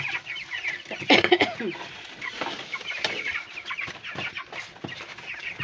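A flock of broiler chickens being fattened, some over 500 grams, clucks and chatters busily up close, with overlapping calls, a louder flurry early on, and occasional voices underneath.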